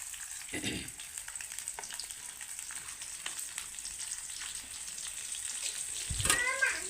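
Chopped onion fries with cumin and mustard seeds in a pan, giving a faint, continuous sizzle with scattered small crackles and a few brief utensil knocks near the end.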